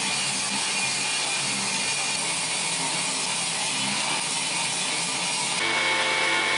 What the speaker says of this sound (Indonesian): semua plywoodnya dipotong ke ukuran masing-masing, dipotong lagi, dipotong lagi